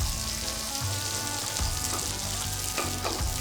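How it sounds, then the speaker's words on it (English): Onion frying in a pan for a vegan eggplant curry: a continuous close sizzle with regular dull knocks and scrapes from stirring, no talking. "Now let's fry the onion"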